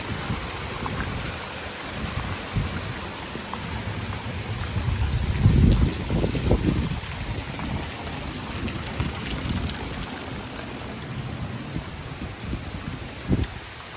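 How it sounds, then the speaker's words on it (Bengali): Heavy rain in a strong, windy storm, a steady broadband roar with gusting swells that build loudest around the middle before easing back to a constant downpour. "দেখুন কি ঝড়, প্রচুর বৃষ্টি, প্রচুর ঝড় তুফান,"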